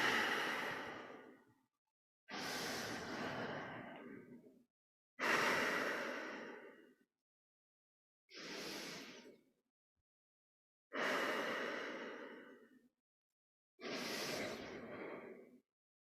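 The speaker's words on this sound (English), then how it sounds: "Belly breathing." Slow, deep belly breaths during a qigong exercise: six long airy inhale-exhale swells, each about two seconds, separated by short silences, close and fairly soft with no talking.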